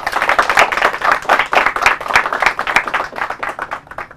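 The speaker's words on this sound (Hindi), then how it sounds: "तालियां हो जाए इनके लिए" A studio audience at a televised quiz gives tied teams a round of applause. The clapping is brisk and fairly close, with uneven rhythmic surges that taper slightly at the end.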